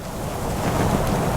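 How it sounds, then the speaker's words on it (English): A steady rush of wind gusting against a bedroom window, a broad, even roar that swells slightly and stays close and continuous with no voices. "You are awoken by the sound of a gust of wind battering the window"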